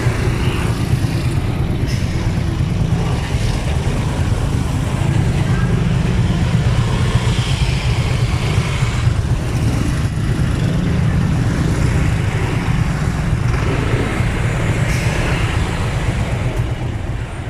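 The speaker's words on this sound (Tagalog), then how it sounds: "Grabe ang traffic mga kabus." Heavy road traffic of cars, buses and trucks jammed in Intramuros, Manila: a dense, continuous low engine rumble that stays loud throughout, with faint talk partly over it.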